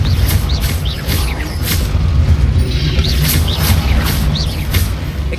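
Confringo spell blasts in the Hogwarts Legacy video game: a loud, steady rumble of repeated bursts with bright crackling hits every half second or so, layered over constant low booming game noise, no talk.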